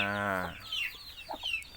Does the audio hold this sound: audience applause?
no